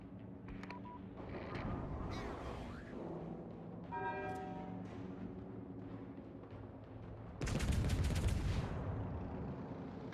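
406mm naval cannons in World of Warships fire with a loud, booming broadband blast near the end, following quieter rumbling battle noise and a short electronic beeping sequence.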